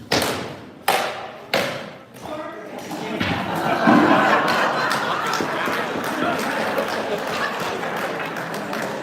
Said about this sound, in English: I think you heard the reaction of the crowd